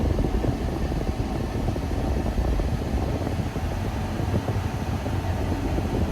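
A Mercedes W123 engine idles steadily at about 1000 RPM while the car sits still with the condenser fan off, giving a continuous low rumble that stays loud and even throughout.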